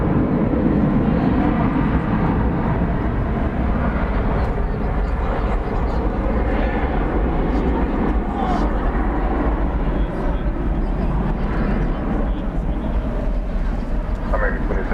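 United airliner passing over the bridge at DFW Airport at night: a steady, loud jet roar holding for the whole stretch, with a radio voice talking over it.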